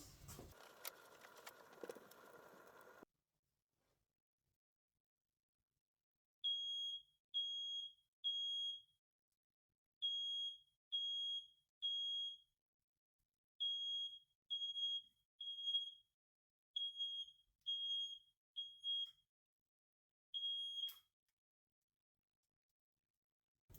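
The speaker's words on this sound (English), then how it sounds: "That's not a very good smoke alarm." A smoke alarm in a log cabin chirps in short, regular high-pitched beeps, grouped in runs of three or so with pauses, loud and alone after a brief rustle.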